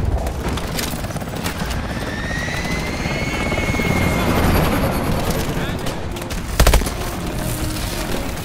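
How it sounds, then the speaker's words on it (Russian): Helicopters arrive in the Call of Duty: Advanced Warfare game, rotor thump swelling loud and close beneath speech, with a whining engine tone sweeping across and a sharp burst of gunfire near the end. "Вертолеты «Атласа» на подходе!"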